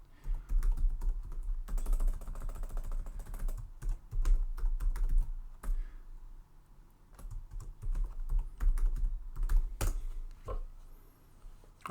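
Fingers type a password on a computer keyboard in quick bursts of close, crisp key clicks with brief pauses, alone without talk.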